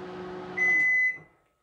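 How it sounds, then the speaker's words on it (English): Panasonic NN-CD87KS convection grill microwave oven starting with one button: a low hum, then a single sustained electronic beep over it, after which the hum fades to silence. "with one push button is going to start the microwave without setting times or weight"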